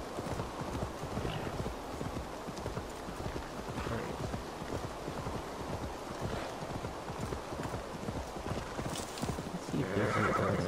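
A horse gallops steadily in Assassin's Creed Valhalla, its rapid clip-clop hoofbeats running throughout, with a neigh and a brief rise of other game sounds near the end.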